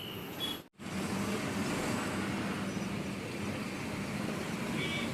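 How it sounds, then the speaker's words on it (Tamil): Heavy road traffic near Tirupati produces a continuous broad roar of passing vehicles, moderately distant, after a brief dropout at the start, with faint horn-like tones near the end. "ஏதோ ஃபங்க்ஷன் நடந்துகிட்டு இருக்கு போல், அதனால தான் செம்ம டிராஃபிக்குங்க இந்த இடத்துல."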